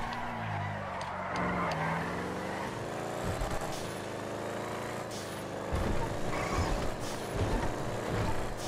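A sports car accelerates hard in a GTA FiveM street race, its engine revving up through rising pitch sweeps with gear changes, loud and continuous with other traffic noise mixed in.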